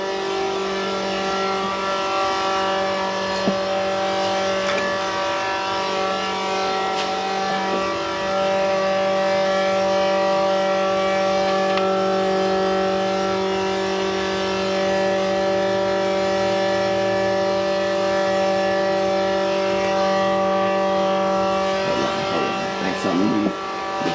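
A stroker V8 in a 1987 Monte Carlo SS fitted with an MSD distributor runs close by, holding a steady, droning tone for about twenty seconds before its pitch shifts near the end.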